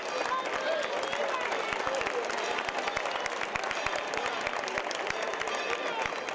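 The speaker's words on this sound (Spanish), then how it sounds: "Venga, un fuerte aplauso por favor para ellas." An audience at an equestrian show in Cadreita gives steady, dense applause that is loud and sustained throughout, while an announcer speaks over the clapping.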